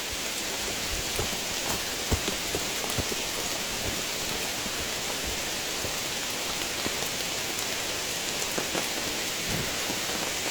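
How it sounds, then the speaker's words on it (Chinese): Heavy mountain rain falls in the Qinling range as a dense, steady roar that never lets up, with scattered louder drops landing on nearby surfaces. "你听这个雨声有多大？"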